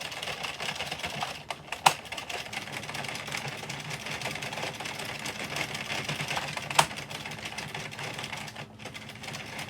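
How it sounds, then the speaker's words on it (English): A knitting machine's row counter clicks as the carriage runs waste yarn during cast-on, a steady mechanical clatter with two sharper, louder clicks standing out. "that noise you hear is the clicker counting the rows"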